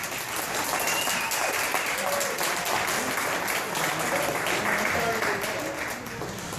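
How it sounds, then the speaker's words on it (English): Audience applause at a seed-to-cure benefit event, steady dense clapping from a sizable crowd filling the room, with a few voices murmuring beneath it. "Big round of applause for Janet."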